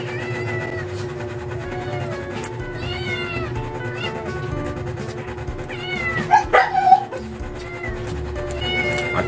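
Several kittens meow in repeated high, wavering calls over steady background noise near a meal of chicken adobo, with a louder burst of cries toward the end.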